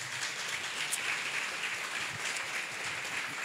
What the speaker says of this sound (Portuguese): Então, vamos receber o Matheus com uma salva de palmas.